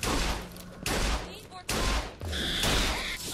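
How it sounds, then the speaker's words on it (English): Hand cannon gunshots in the BioShock Infinite video game fire in loud, sharp bursts, several blasts in quick succession with brief gaps, mixed with game sounds and some voice. "He's taking a lot of hand cannon shots."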